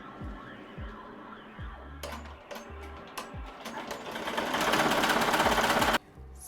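A sewing machine stitches a reverse appliqué on an embroidered shirt, starting in short rhythmic bursts. It then runs into a louder, faster continuous whir with mechanical clatter before stopping abruptly near the end.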